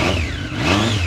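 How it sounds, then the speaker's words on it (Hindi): Triumph inline-three motorcycle engine revving close by, a continuous loud rising and falling roar with a high whistling tone riding over it. "ट्रायम का बेसिक फंडा एडवांटेज ये इसकी इनलाइन 3 का जो विस्लिंग साउंड है उसके लिए ही फेमस है ये बाइक"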